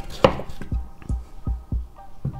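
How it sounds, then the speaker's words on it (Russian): Steady knife chopping of pumpkin into cubes on a board, about six crisp thunks in an even rhythm, close and clear with no talking. "Нарезаем хаотичными кубиками."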